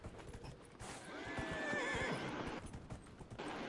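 Horse in a video game, galloping hooves in a steady rhythm under a clear, drawn-out whinny, moderately loud throughout with no speech.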